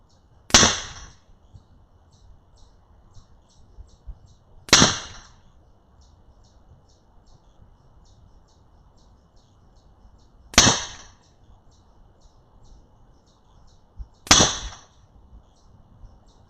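Four sharp shots from an Edgun Leshiy 2 air rifle fitted with a Mod 30 moderator, each a crisp crack with a short decay, spaced several seconds apart against a quiet outdoor background.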